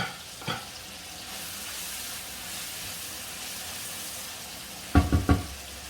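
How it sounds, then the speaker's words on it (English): Scotch bonnet pepper frying in a pan, a steady close hiss and sizzle with a short clatter early on and a quick cluster of louder scrapes near the end. "This is my scotch bonnet pepper. I will be adding it."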